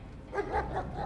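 A dog barks a few times in a TV drama scene, short yelping woofs at moderate distance over a low background rumble, with no talk.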